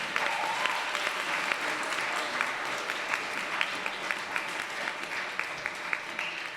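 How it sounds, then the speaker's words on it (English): Steady applause from an audience at a city council meeting, many hands clapping in a continuous wash with a few sharper individual claps standing out, moderately loud and free of speech. "Let's give her another round of applause."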